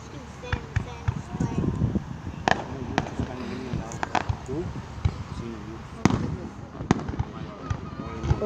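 Big July 4th fireworks bursting near a beach, with sharp repeated booms and crackles scattered across several seconds over a busy crowd, people talking and exclaiming throughout.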